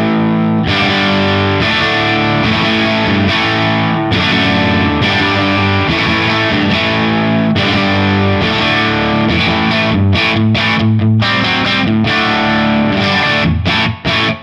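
A heavily driven electric guitar through a Line 6 Helix amp modeler plays loud sustained distorted chords and riffs, with brief choppy stops near the end.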